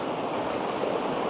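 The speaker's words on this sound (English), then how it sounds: "So the river is certainly in full flow." A river running in full flow after a week of rain: a loud, steady, unbroken rush of water close by, with no voices.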